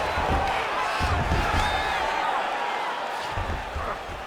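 Arena crowd in the UFC 5 fighting game, a dense continuous roar of cheering at a fairly loud, even level, with occasional thuds from the fight.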